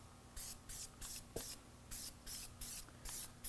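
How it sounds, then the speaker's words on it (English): Repeated short hissing sprays of tire cleaner from a trigger bottle onto a 2016 Chevy Tahoe's tires, about nine bursts in a steady rhythm, close and fairly quiet. "I'm going to spray some Stoner's Terminator on the tires"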